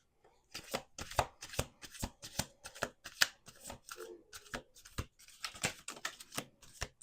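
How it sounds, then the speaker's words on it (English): A Rare Rebel oracle card deck being shuffled by hand up close, a rapid series of crisp riffling bursts and card slaps in an uneven rhythm, heard alone. "We're going to use Rare Rebel. You can find this deck on Etsy."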